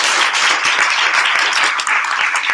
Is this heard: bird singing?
no